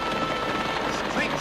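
A burst of rapid gunfire in an Annie Oakley western episode, a dense crackling volley throughout with a voice talking over it.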